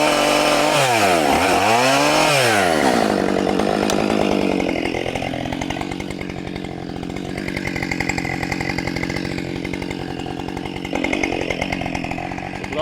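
A Husqvarna 572XP chainsaw revs hard and cuts through a hollow, ant-infested log, a loud close roar with rapid pitch swings at first, then a steady bogged-down drone as the chain bites into the wood.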